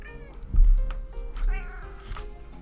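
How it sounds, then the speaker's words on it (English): A cat meows loudly and insistently, two drawn-out, strained yowls close by with a shorter cry trailing after, sounding agitated and alone with no talk over it. "Cat is going very insane right now"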